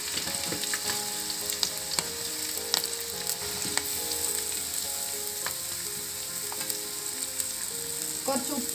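Sliced onions and green chillies sizzle steadily in hot oil in a pan for a chicken curry with coconut milk, with a constant crackling hiss and occasional stirring scrapes, close and continuous.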